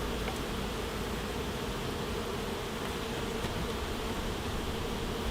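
Honey bees swarm and buzz around white comb in a hive's honey super, a steady, dense droning hum that fills the whole stretch without a break.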